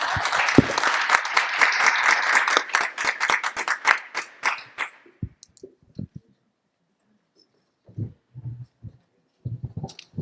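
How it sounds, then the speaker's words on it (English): Conference audience gives a round of applause after a poster presentation, a dense burst of clapping that thins out and stops around halfway, followed by scattered quiet bumps and rustling. "let's give her a round of applause."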